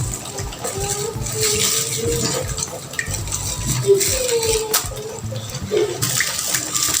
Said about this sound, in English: We have dissolved our Natrosol now in 500 ml of water and we are still stirring it